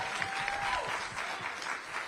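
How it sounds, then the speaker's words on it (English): An audience applauds at a public policy forum on Black women's leadership, a soft, steady patter of clapping from the hall heard at a distance for a couple of seconds. "can we all applaud Melanie Campbell for her leadership?"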